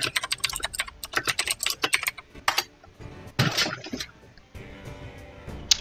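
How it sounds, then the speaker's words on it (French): Loud clattering keystrokes on a computer keyboard during a ranked online game, quick irregular bursts of typing with short pauses, close and dominant throughout. "ton clavier fait beaucoup de bruit"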